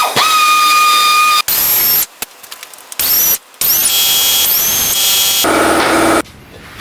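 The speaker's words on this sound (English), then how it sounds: "if you're going to use air tools" An air tool spins out Torx T30 bolts from the beak of a BMW F800ST motorcycle in loud, close bursts of whirring and hissing, broken up by short silent gaps.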